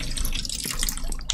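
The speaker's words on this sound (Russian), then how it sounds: "могу открыть кран" Water runs from a washbasin tap in the video game Mafia II, a steady close splashing stream with a dripping texture, heard alone.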